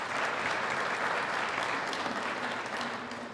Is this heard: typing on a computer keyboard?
no